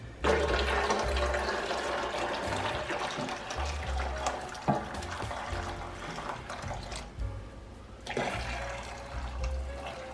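Hot homemade vegetable juice poured from a pot into a bowl in a kitchen, a steady splashing, gurgling stream of liquid that continues for about ten seconds, fairly quiet and close.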